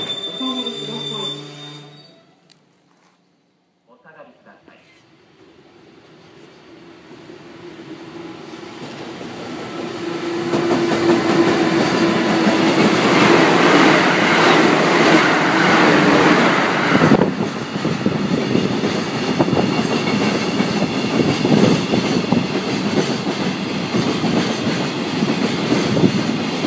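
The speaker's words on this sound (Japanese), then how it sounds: "まもなく2番線を列車が通過します。" A freight train hauled by an electric locomotive passes through a station on the Tokaido Main Line in the Chukyo area. After a brief beep and a quiet lull, the rumble swells into a loud, sustained roar of clattering wheels and squealing metal.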